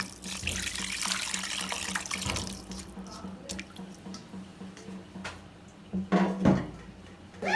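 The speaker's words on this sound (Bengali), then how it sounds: "এখানে অল্প পরিমাণ পানি দেওয়া হবে।" Water pours steadily into a cooking pot for broken-rice khuder bhat up close, splashing and trickling for several seconds before tapering into drips and a few louder splashes.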